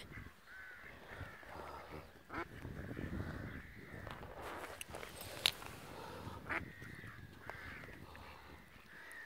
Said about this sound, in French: Oh, les canards, Pollux.